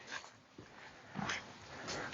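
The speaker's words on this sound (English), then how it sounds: "Little doggy." A small dog on a Kunekune pig farm gives soft whimpers and yips near the microphone, a few brief cries spread over two seconds against quiet outdoor background noise.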